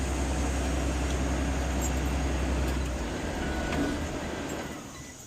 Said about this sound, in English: I'm going to turn my bus off.